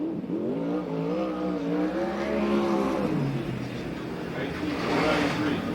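360 sprint cars racing on the Perris, California track, engines droning and rising in pitch as they pass, a continuous loud roar with a second wave building near the end, with an announcer talking over it.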